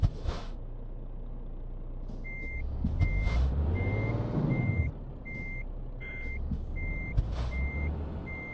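Regular electronic reversing beeps from a Renault truck in the video game Euro Truck Simulator 2, repeating steadily over a low engine rumble with an air-brake hiss and occasional clunks.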